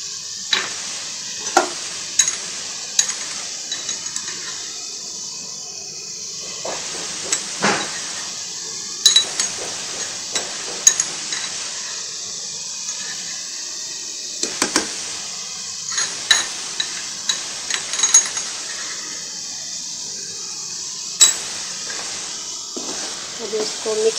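A spoon stirs ground spices, fenugreek seeds and green chillies in a pan for bottle gourd curry, giving repeated sharp scrapes and clinks over a steady sizzle, with someone talking throughout.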